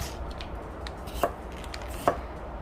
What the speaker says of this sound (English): we're just gonna cut the potatoes into small pieces